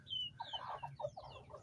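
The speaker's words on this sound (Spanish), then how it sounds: "Ahí están los pollitos." Chicks and roosters, some of the chicks sickly, cluck and peep softly in a yard at feeding time, a quick run of short cheeping notes over low murmuring, faint and somewhat distant.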